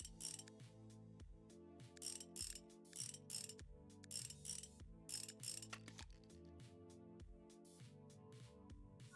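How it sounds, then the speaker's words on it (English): In a motorcycle mechanic simulator game, a ratchet spins a bolt out in quick repeated bursts of clicking, each burst of sharp mechanical ticks separated by brief pauses, crisp and close. "just take this bolt out real quick."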